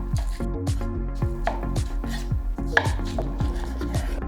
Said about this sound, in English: So we want to just go ahead and cut our steak down just like that.